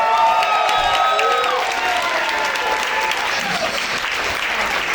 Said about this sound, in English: how about a round of applause for my co-host